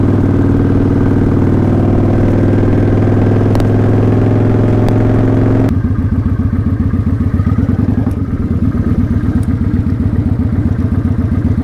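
A motorcycle rolls along slowly, its engine a steady, loud close-up rumble with a low, even putter throughout, the pitch dropping slightly midway as the rider eases off.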